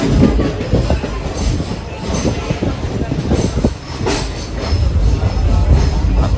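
A train rumbles at Kadapa railway station during a Hubballi to Tirupati rail journey, with loud, continuous rolling wheel noise and rhythmic clatter close by, and some faint crowd sound in the background.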